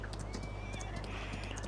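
Horses in the Farming Simulator 19 video game neigh and whinny over steady hoof clip-clops, with a constant low hum underneath.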